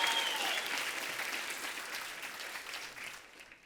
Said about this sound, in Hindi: प्लीज जोरदार तालियां सर के लिए।